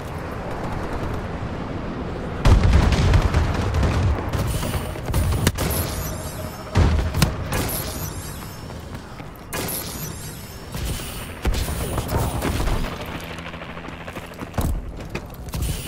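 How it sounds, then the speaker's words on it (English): Explosions and battle noise from an airstrike bombing run during a Call of Duty: Advanced Warfare match, with repeated sharp blasts and crashes scattered over a steady rumble of combat. "Friendly bombing run clearing the way."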